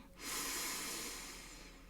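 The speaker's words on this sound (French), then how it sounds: "respirer plus fort par le ventre, une belle inspiration" A deep, slow breath drawn in through the belly during a guided meditation, a broad airy rush that swells quickly and then fades gently, close and steady with no talk over it.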